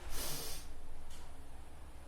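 A long, deep breath drawn in through the nose during a breathing exercise gives a rushing inhale close to the microphone that fades into quieter, steady breathing.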